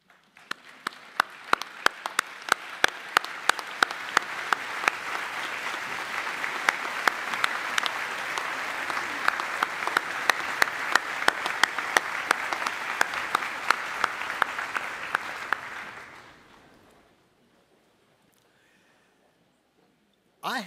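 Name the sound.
audience applause, standing ovation for graduates' families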